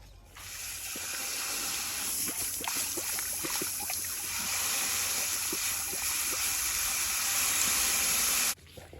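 Water from a garden hose hisses and splashes steadily in a garden for several seconds, with small scattered knocks and clicks on top, ending abruptly.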